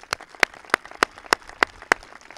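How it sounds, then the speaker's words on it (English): An audience at a 2021 school graduation ceremony gives a round of applause. It comes as a sparse series of single, evenly spaced sharp claps, about three per second, heard alone. "I think they are deserving of one more round of applause."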